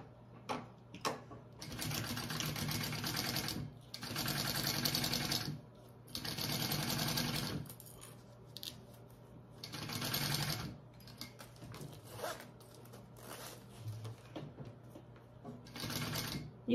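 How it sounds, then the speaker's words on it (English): A sewing machine stitches a bag lining along a zipper in several bursts of steady, fast mechanical whirring, separated by short pauses and small clicks, loud and close with no talk. "we're going to sew along that zipper"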